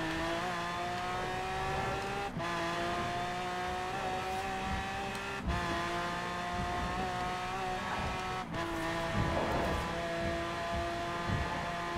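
Car engine in the Forza Horizon 4 racing game, droning steadily and close for the whole stretch, with a few brief tire squeals and shifts breaking up the sustained roar; no talking.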